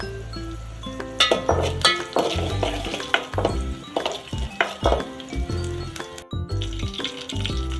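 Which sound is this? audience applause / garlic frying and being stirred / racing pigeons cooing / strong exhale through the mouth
garlic frying and being stirred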